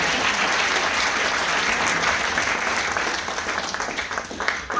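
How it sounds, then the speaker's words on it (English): Audience applause at a concert band performance, a full, sustained wash of clapping from the crowd that holds steady, then thins into scattered claps near the end. "So I deserve a round of applause for"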